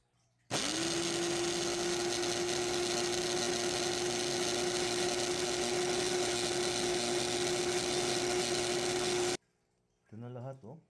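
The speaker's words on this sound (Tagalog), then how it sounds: "Lagyan natin sa blender." A kitchen blender runs steadily for about nine seconds, whirring with a loud high-pitched motor whine as it grinds dried malunggay leaves into powder, then cuts off abruptly, and a brief voice follows.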